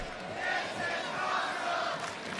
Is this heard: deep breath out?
no